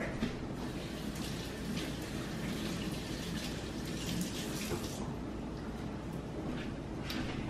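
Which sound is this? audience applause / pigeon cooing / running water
running water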